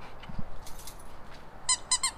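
A squeaky dog toy shaped like a Star Pups coffee cup squeaks several times, two soft squeezes then a quick triple squeak, close and fairly quiet.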